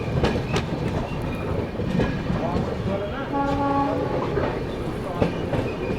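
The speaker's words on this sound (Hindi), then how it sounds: "ट्रेन जो है अपनी धनबाद पहुंच रही है दोस्तों।" West Bengal Sampark Kranti Express (12329) running toward Dhanbad Junction, with steady rail rumble and clickety-clack from the wheels. A sustained horn tone sounds midway and brief metallic squeals come near the end.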